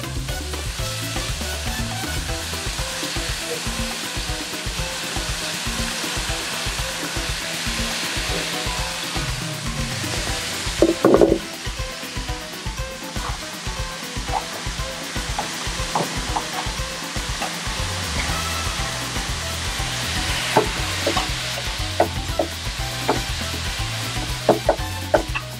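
Ingredients sautéing in hot chorizo fat, a continuous close sizzle with repeated scraping and clattering of a spoon stirring the pan, one louder knock midway, no voices.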